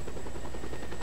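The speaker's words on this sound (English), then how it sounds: "If you carry a helicopter off the helipad with another helicopter" Helicopter in the video game Just Cause 2, a loud, close, continuous rotor thump with a fast steady beat and heavy engine roar filling the whole moment.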